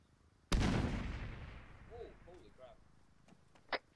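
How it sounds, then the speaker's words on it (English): A frag grenade explosion in the Arma 3 military video game: one loud, close blast with a long rumbling decay, followed by brief voice chatter over a radio and a smaller sharp report near the end. "we're getting some frags on us"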